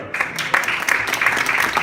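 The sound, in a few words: audience applause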